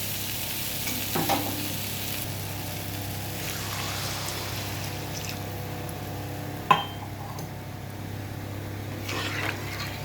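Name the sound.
cumin and coriander powder frying in a pan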